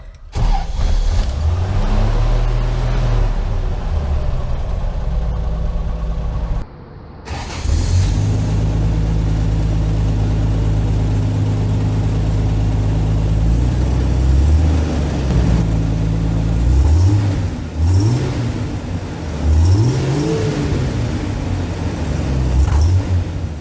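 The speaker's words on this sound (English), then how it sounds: "Insert the key, go ahead and start it up." A 1975 Toyota FJ40 Land Cruiser engine cranks briefly, stalls, then starts and settles into a steady idle with several throttle blips rising and falling, close and loud.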